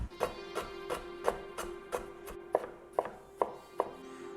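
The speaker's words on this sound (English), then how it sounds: "Now we're gonna slice up the palm sugar so it dissolves nicely in the sauce." A knife slices through a block of palm sugar on a cutting board, about eleven crisp, evenly spaced cuts in a steady rhythm, close and moderately loud.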